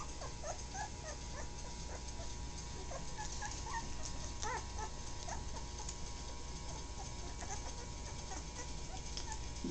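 Puppies whimper and yip softly in scattered, high little whines over a constant low hiss, some close and some a bit farther off.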